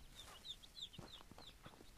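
Hens in the Ranch Simulator farming game cluck softly in a quick, uneven series of short clucks, faint and without talk.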